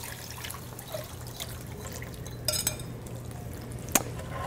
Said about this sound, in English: I'm going to just go ahead and dump the gravy that we mixed up